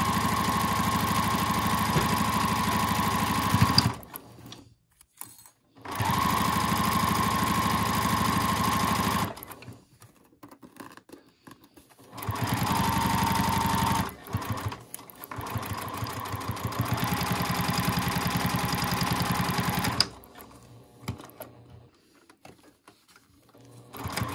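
A sewing machine runs a long straight seam down the short side of a handmade fabric bow tie, its steady mechanical whir coming in several close, loud bursts separated by brief pauses.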